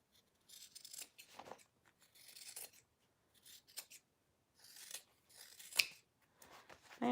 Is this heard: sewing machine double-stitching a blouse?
no